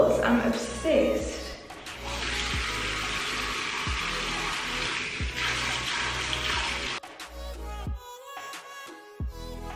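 Running water streams steadily while hair is washed during a natural curly hair wash day, a broad hiss that fades near the end, with someone talking over it throughout.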